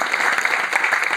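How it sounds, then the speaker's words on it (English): Dense applause from an audience at the inaugural ceremony of a food and beverages expo and global village event, a steady mass of clapping throughout with no pauses. "let's have a round of applause once again for our foreign delegates"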